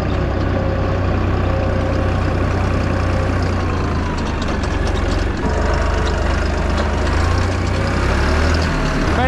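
A new farm tractor engine runs loud and close with a deep, rumbling diesel drone that holds steady throughout, plus faint mechanical rattles layered on top.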